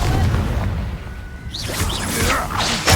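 A Confringo fire spell blast in Hogwarts Legacy: a deep booming burst followed by whooshing magical swishes and crackling effects, loud and close, with no talk over it.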